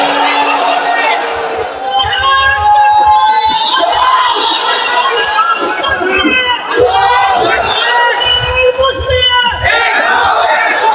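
A large crowd at an Islamic religious gathering (mahfil) in Khilkhet, Dhaka, shouts the takbir chant in loud, rhythmic waves, many voices rising and falling together and filling the space throughout.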